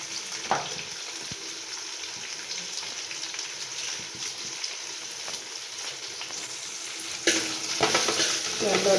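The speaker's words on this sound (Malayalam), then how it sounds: "അപ്പോൾ ഇച്ചിരി സ്വല്പം മഞ്ഞൾപ്പൊടി, ഇച്ചിരി ഉപ്പും ഇട്ട് നല്ലൊന്ന് വഴന്ന് കിട്ടട്ടെ." Shallots sauté with turmeric and salt in a pan, giving a steady close sizzle with occasional spoon stirs and a louder burst of frying toward the end.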